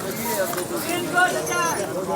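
Hooves clop along the mountain trail to Hemkund Sahib in Uttarakhand on a horse ride, heard as a few soft, uneven steps under steady talking voices close by.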